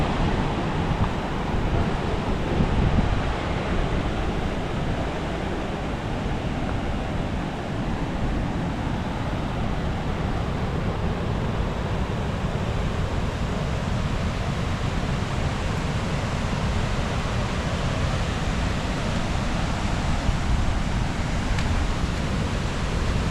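At Kozhippara waterfalls in light drizzling rain, rushing water roars as a loud, dense, unbroken wash of noise with no letup, and nobody speaks.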